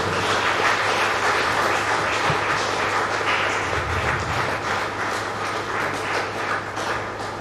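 A yoga practice gathering's audience of practitioners claps together in steady, dense applause that carries on evenly throughout, broad and continuous, with no voices over it.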